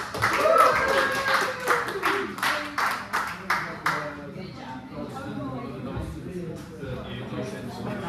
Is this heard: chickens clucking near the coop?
no